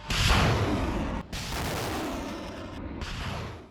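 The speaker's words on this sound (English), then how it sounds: "The launcher rumbles into the middle of the field and fires 4 rockets in quick succession." A truck-mounted rocket launcher fires rockets in quick succession in an open field, producing a loud, continuous roaring blast with brief breaks between launches.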